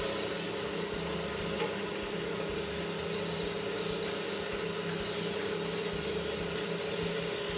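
A Sidamo SR276DAV band saw with stand runs steadily after start-up, a continuous mechanical whir with a high whine, moderately loud and close, without speech.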